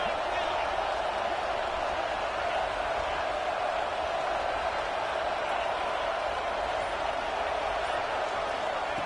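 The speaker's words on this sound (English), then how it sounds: "This crowd is trying to inspire this defense to make a big red zone stop." A stadium crowd at a Clemson versus Georgia college football game roars steadily as the defense faces a red zone stand, producing a dense, unbroken wash of cheering noise.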